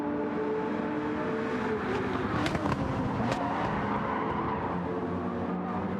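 GT3 race cars, among them a Porsche on medium tyres, in a sim racing game, with a steady, loud engine drone running throughout and a few brief sharper spikes.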